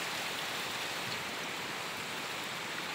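Steady rain falls near Taytay Falls in Majayjay, Laguna, a soft continuous hiss with rushing water mixed in, even and moderately faint throughout.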